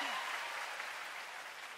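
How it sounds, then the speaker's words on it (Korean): Audience applause, a brief, faint burst of steady clapping heard on its own with no talk. "박수 주세요."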